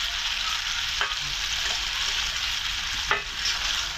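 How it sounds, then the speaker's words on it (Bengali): Prawns from the Meghna river frying with onion in a pan, a constant loud sizzle with a couple of sharp scrapes of the spoon as the mixture is stirred. "আমার ওয়াইফ রান্না করতে আছে পেঁয়াজ দিয়ে বোনা করতেছে"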